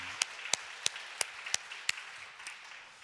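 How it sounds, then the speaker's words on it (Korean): Sparse, slow claps ring out one at a time, about seven sharp strikes spaced roughly evenly, over a hissy, fairly quiet background, as a small audience starts to applaud. "박수로 한번 격려해 주면 좋을 것 같습니다."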